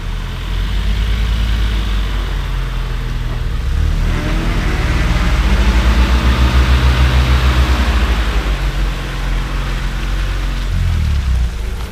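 A homemade off-road jeep built to look like a GAZ-69, its engine running loud and close with a rough throbbing idle that swells into revs midway before settling back.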